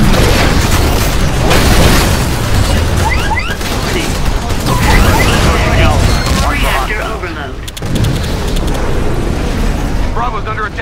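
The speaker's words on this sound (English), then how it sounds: "Another Titan is attacking you." Titan combat in the video game Titanfall, with repeated explosions and booming impacts mixed with mechanical noise and bursts of fire, loud and continuous throughout, with game voices talking over it.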